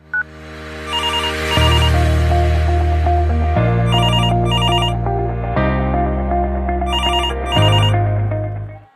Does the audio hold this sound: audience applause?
no